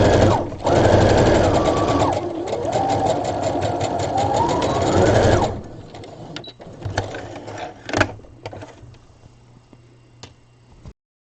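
A sewing machine runs loud and continuously, sewing small doll dress pieces for an 18-inch doll peasant top, then stops and gives way to quieter fabric handling and a few clicks.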